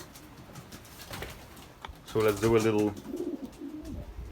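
Racing pigeons in a breeding loft give a short burst of loud, throaty cooing, close by and following a man's brief speech, with softer bird murmurs afterward.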